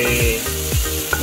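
Onions sautéing in a pan for pancit guisado, a loud close sizzle with repeated scraping stirring strokes sweeping through it at a steady pace.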